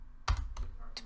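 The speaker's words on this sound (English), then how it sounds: "I'm horrible at typing when I'm playing the games" A computer keyboard is typed on for game chat during Minecraft play, with three quick, sharp key clicks unevenly spaced in a short burst, close and dry.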